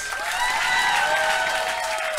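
A crowd at a comedy club birthday roast claps steadily, with whoops and whistles riding above the brief, continuous burst of applause.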